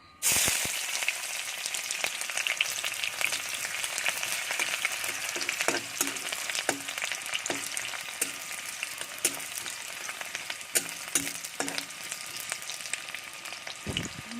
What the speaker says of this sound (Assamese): পিঁয়াজখিনি দি অকণ সময় ৰঙচুৱা হোৱালৈকে অকণ লৰাই থাকিব।